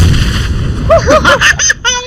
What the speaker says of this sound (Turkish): Patladı.